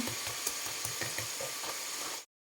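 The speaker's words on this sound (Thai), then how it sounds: "เอาสดสดมาจากสวนล้างๆ หั่นๆโคตรฟาดพรืบในน้ำมัน" Freshly dug garden potatoes, washed and cut into French fries, sizzle in hot oil with a steady, crackling hiss that cuts off abruptly near the end.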